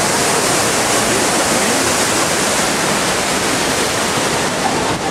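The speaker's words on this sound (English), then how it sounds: "there's the waterfall" Roaring waterfall at Pandora Falls along the Avatar Flight of Passage queue, a steady, dense wash of falling water that stays loud and unbroken throughout.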